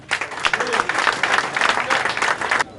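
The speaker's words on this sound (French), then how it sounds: "Je vais demander au président des applaudissements." Applause from an audience at a political party gathering in Congo, dense sustained clapping that fills the room and stops abruptly near the end, with a few voices mixed in.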